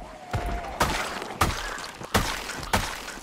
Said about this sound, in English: they smashed my door down